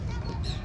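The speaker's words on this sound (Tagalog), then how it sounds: "Itik pala to." A short, nasal quack from a duck, close by, over a rough low background.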